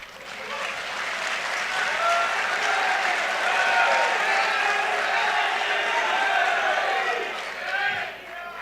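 Audience in a hall applauding during a speech, a dense sustained wash of clapping with cheers and shouts mixed in, swelling and then easing off toward the end.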